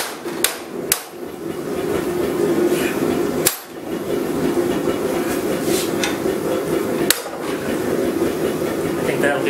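A few sharp metallic hammer strikes on metal while forging fireplace tongs ring out at irregular intervals over a steady mechanical hum, fairly close and loud against the background.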